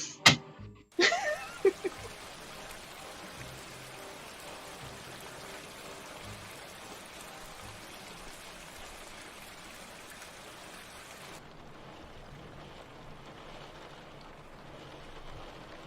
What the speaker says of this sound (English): Okay, but clearly it's raining.